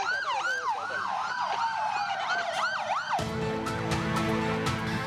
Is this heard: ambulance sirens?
yes